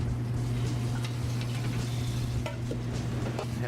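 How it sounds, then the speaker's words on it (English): Shrimp sautéing in a hot pan give off a steady close sizzle with light stirring scrapes and occasional utensil taps, continuous and fairly loud with no talking. "Just want to saute them so they start to turn pink."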